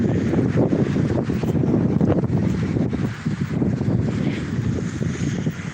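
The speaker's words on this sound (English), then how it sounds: "Now it's going to be really windy." Strong wind gusting across a pier by open water, a loud rumbling buffet of wind against the microphone, continuous with uneven surges and no talking.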